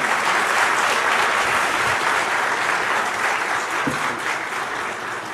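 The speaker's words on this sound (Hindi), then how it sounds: "अरे भाई तालियां इतनी धीमी सी हैं?" Steady audience applause fills the hall at a live interview event, dense and continuous throughout without a break, fading slightly near the end.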